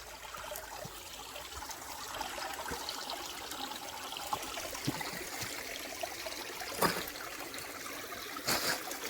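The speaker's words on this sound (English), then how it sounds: "isn't that pretty cool hearing y'all can hear the water going through the rocks there" Water trickles and babbles over rocks in a stream outdoors, a soft, steady flow with occasional louder splashes near the end, faint and nearby with no talking.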